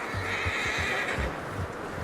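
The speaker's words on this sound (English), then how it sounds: "You should really tether that horse, Arthur." In the video game Red Dead Redemption 2, a horse gives a loud whinny amid soft clopping hooves, set against steady background ambience.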